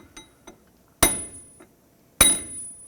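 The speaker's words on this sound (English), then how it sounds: "now I'm going to grab a punch and a hammer and just try to bend this washer over to" Two sharp metallic hammer strikes on a punch, bending a lock washer over an inner tie rod on a 2001-2007 Toyota Highlander, with faint lighter taps between them.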